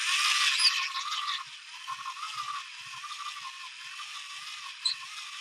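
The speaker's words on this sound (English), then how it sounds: "I'm going to do the handheld generator again." Handheld crank generator being wound to light small bulbs, giving a steady whirring gear rattle close by with faint clicks and no talking.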